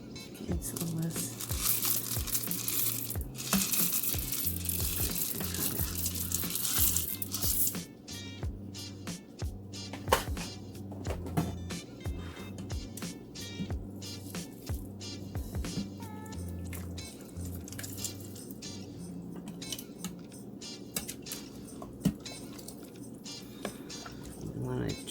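Spoon stirring pasta and beans in a metal Instant Pot of minestrone, wet scraping, squishing and clinking, busier at first then quieter, with a voice talking over it.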